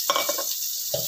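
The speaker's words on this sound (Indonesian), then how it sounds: "Kita tumis, mungkin minyaknya kurang dikit ya" A short burst of stir-frying in oil in a pan for rawon, with a close sizzle and a couple of quick scraping stirs and a brief pause between them.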